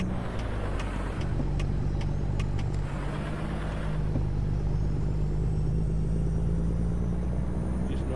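Heavy truck driving in American Truck Simulator on a New Mexico route, a steady low engine rumble and road drone, with faint clicks early on.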